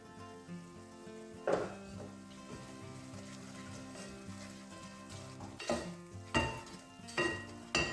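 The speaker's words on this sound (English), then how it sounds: "So we're going to cook these spices out for about 2 minutes." Spices frying in oil for a Chinese chicken curry, a soft steady sizzle with periodic scraping and clinks of a utensil stirring the pan, close and fairly quiet.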